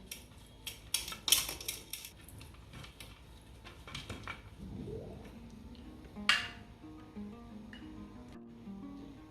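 Butter being rubbed around a pan to grease it before steaming chicken momos, with soft scraping, clinks of metal and a few sharp utensil taps, no talking.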